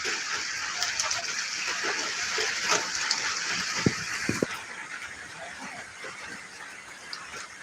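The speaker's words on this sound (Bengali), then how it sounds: "প্রচুর বৃষ্টি হচ্ছে বৃষ্টির কারণে আসলে আজকে এতটা বৃষ্টি আসলে আশা করিনি" Heavy rain pours over a waterlogged field, a steady close hiss of water with scattered small splashes and taps throughout.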